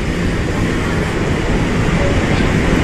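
An MRT metro train runs with a steady, loud rumble that fills the whole stretch without pause, no voices breaking through.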